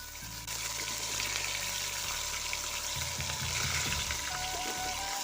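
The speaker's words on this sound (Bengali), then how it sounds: "মাছ ভাজা বসিয়ে ঝোলটাও করে নেব।" Fish pieces fry for a curry in a village kitchen, giving a dense, steady sizzle that holds close and even throughout, with light clinks from stirring.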